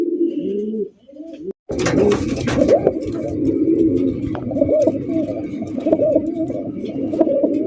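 Pigeons at a market stall coo repeatedly in soft, throaty, overlapping calls, close and fairly loud, with a brief clatter in between.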